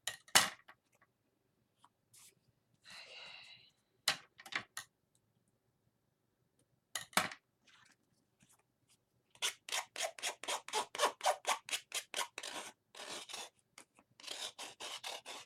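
Scissors trim material up close, starting with a few scattered snips and a short rasping pass, then a fast, steady run of crisp snips with brief pauses, no voices.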